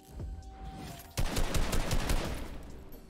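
Rapid bursts of gunfire in the video game Fortnite, a sharp onset followed by dense, sustained automatic shots for a couple of seconds, loud and close with no talking.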